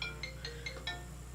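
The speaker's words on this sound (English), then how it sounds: "sorry, my phone started ringing." A mobile phone ringtone plays a short, repeating melodic pattern of bright tones, fairly quiet and heard alone indoors.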